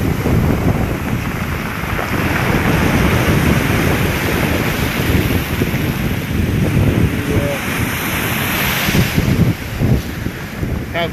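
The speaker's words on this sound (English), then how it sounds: "Okay, I'll let you enjoy the sound of the waves." Stormy ocean waves crash against the shore at dusk, a loud, continuous roar of surf with heavy wind buffeting the microphone throughout.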